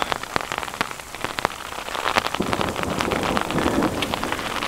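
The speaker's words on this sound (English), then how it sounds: "I don't know if you guys can hear the rain, but it's" Steady rain patters on a tent during a Montana wilderness backpacking trip in a thunderstorm, dense drops tapping close and continuous, growing slightly heavier toward the end.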